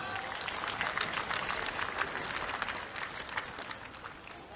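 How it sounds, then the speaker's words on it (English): An audience applauds the OKN Senior karting drivers at the Champions of the Future Academy season finale, a steady, moderately distant round of clapping that tapers gently toward the end. "please, one final round of applause for OKN Senior"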